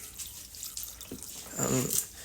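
Water poured into a crock pot holding ground beef, a short splashing pour rising near the end after faint kitchen noise.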